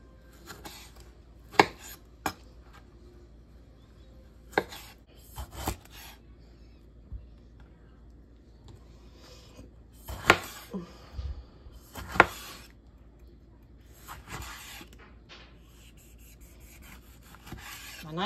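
Knife roughly chunking homegrown tomatoes on a cutting board, a slightly dull blade: scattered sharp chops and scraping rubs arriving irregularly, close and fairly quiet, with short gaps between cuts and no talking.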